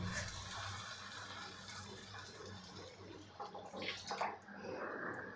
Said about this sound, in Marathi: त्यासाठी मी तीन कप इथे पाणी घालणार आहे